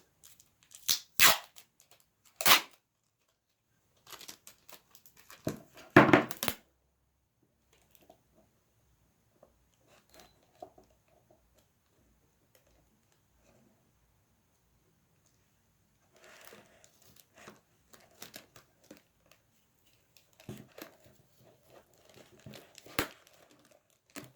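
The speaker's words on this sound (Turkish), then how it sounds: "Daha sonra diğer bardağı üzerine şu şekilde kapatacağım ve bantlayacağım." A cup is capped with a second cup and bound with adhesive tape while making a homemade musical instrument: sharp crinkling and tape-tearing bursts near the start and again later, separated by a long quiet stretch.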